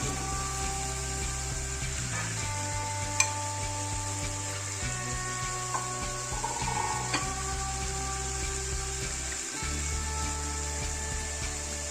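Potato and green plantain pieces sizzle steadily in a hot pan for a curry-style dish, a continuous close frying hiss with occasional small ticks and stirring clatters, no talking.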